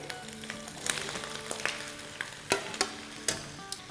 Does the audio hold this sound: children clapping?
no